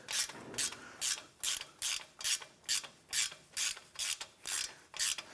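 Hand ratchet turning a 12-point socket on ball joint bolts of a 2007–2017 Jeep Wrangler front suspension, about a dozen evenly spaced clicking strokes, close and fairly quiet, with no talking.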